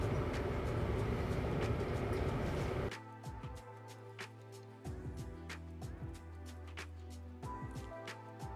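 Train pulling into a station in Fes, Morocco: a broad rumbling roar for the first three seconds gives way to a steady low hum with metallic rail clanks and squeals as it slows, loud and close.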